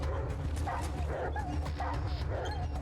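A dog yips and whimpers in short bursts in the video game ATOM RPG, close and fairly loud over steady low game ambience, with a voice talking over it.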